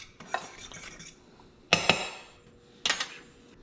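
A spoon stirs panko breadcrumbs and garlic salt in a bowl, producing three close bursts of clinking and scraping with quiet gaps between them.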